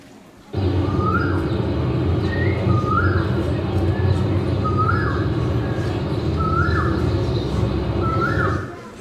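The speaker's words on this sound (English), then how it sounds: "that's the sound of that bird that only sings during this time, announcing the new year." A bird call repeats five times at steady intervals, each a short rising whistle, played back over a constant hiss of background noise.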